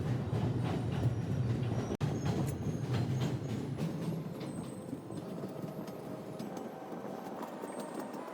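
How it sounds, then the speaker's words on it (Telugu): A passenger train nears Vijayawada near Tadepalli on a Rajahmundry to Velankanni journey, giving a steady, loud rumble of wheels on rails throughout with a sharp click near the start, heard alone without talk. "ఇప్పుడు ట్రైన్ వచ్చేసి విజయవాడ రీచ్ అవుతుంది"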